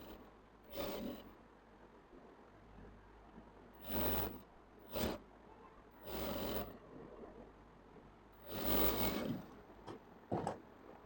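A sewing machine runs in several separate bursts while double-stitching the seams of a school uniform shirt, each run lasting about a second with quiet pauses between, heard close and alone.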